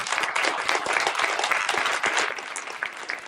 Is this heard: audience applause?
yes